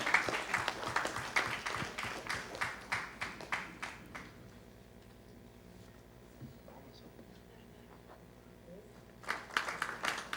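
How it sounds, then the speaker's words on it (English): A round of applause for panel members at a formal event, several seconds of brisk rhythmic clapping that dies away into near silence, then bursts back briefly at the end. "Huge round of applause, ladies and gentlemen."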